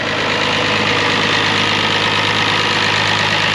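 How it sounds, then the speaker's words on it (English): A Farmall 706 Hi-Clear tractor engine idles steadily and fairly close, a continuous low rumble with a slightly knocking texture and no voices over it. "That's a pretty cool tractor though."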